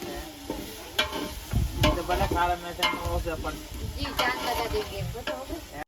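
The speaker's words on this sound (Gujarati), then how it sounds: "લસણ ને નાખી દીધું છે. ડુંગળી નાખી દીધી છે. હવે ડુંગળી બરોબર શેકાવા દેજો" Garlic and onion fry in a pan, a steady close sizzle with sharp scraping stirs and clinks of a utensil against the pan, one after another.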